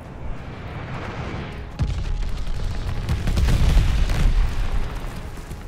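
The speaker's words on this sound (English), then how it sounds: "Enemy's got a glide bomb incoming." Glide bomb blasts and gunfire in Call of Duty: Vanguard on the Gondola map, with a sharp explosion followed by rolling booms and scattered shots building into a loud, sustained barrage.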